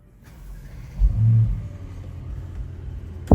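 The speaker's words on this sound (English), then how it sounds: "So I'm going to put my foot on the brake, then press start." A 2016 Mercedes-AMG E63 S wagon's V8 cold-starts with a short crank, then a loud, deep flare of revs that falls back to a steady, rumbling idle, with a sharp click near the end.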